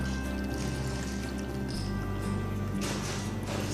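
Dark elderberry syrup pours through a stained cheesecloth into a cup in a home kitchen, making a close, steady trickle and splash that runs continuously, thickening slightly partway through.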